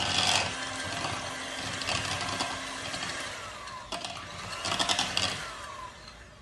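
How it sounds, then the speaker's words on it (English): A kitchen mixer churns cinnamon swirl bread ingredients with a steady whirring, rasping drone that runs throughout, rising in intensity near the start and again toward the end. "we are going to use a mixer to do this"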